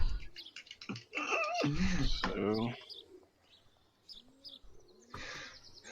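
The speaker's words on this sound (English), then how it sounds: "No, we're listening to fucking birds." Birds chirp and coo, cut into by a loud stretch of overlapping talk and laughter near the middle, with chirps returning in the quieter gaps and one more louder call near the end.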